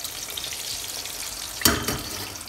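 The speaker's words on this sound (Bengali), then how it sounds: "এই পকোড়াটা ভাজার পরে আমি পুরিটা ভাজবো" Pakoras frying in hot oil make a soft, faint bubbling sizzle, with a brief louder splash and crackle partway through, no voices present.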